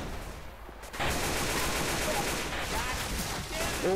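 Continuous gunfire from the zombie shooter Left 4 Dead 2, a dense, loud run of rapid shots after a brief quiet start, with faint game sounds mixed in.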